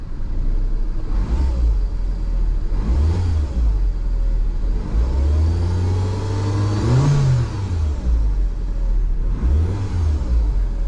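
A car engine revs up and down several times nearby, its pitch climbing with a faint rising whine like a turbo spooling under the rumble.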